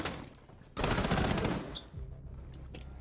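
A short, loud burst of rapid submachine gun fire in a video game, about three-quarters of a second long, followed by quieter game ambience and faint clicks.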